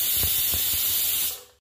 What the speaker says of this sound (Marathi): तर आता इथं कुकरच्या शिट्ट्या झाल्यात